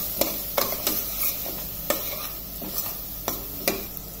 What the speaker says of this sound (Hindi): और इन सबको अब करते हैं अच्छे से मिक्स।